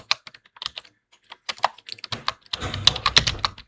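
Keys clatter on a computer keyboard in quick irregular bursts, close and clear, pausing briefly before a denser, busier run of typing with a low background hum.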